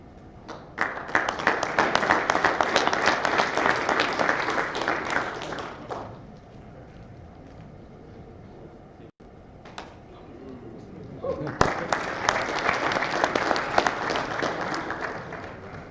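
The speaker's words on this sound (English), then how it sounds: "Please give our new senior a round of applause." Applause from an assembled unit at a US Air Force logistics readiness squadron promotion ceremony, with two loud bursts of clapping separated by a quieter pause of murmuring.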